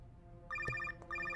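A telephone rings in a Bollywood action film scene: two short bursts of electronic trilling ring separated by a brief pause, fairly clear over a quiet background.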